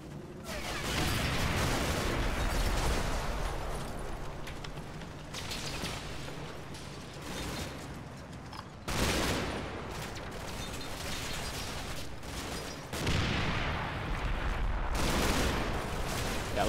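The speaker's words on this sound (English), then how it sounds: "I need to just tone down the machine gun fire for a little bit" Bursts of machine gun and rifle fire in a combat wargame, rattling volleys that swell and pause in waves across the clip, loud and dense with no talking.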